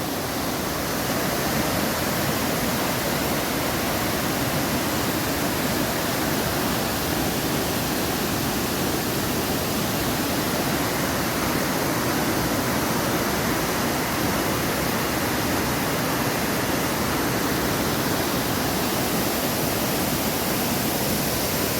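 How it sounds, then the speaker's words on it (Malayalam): Kattikayam waterfall streaming down from the hills, a loud, dense, unbroken roar of rushing water heard close by, steady throughout with no voices. "മലയിൽ നിന്ന് ഇങ്ങനെ അരുവി പോലെ ഇങ്ങനെ ഒഴുകുന്ന വാട്ടർഫാൾ"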